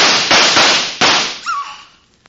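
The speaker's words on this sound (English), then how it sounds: "They'll have to shoot it out." Several loud, sharp gunshot cracks from a 1949 radio drama shoot-out, three or four blasts in quick succession, ringing out and decaying into a faint fading tail with no talk.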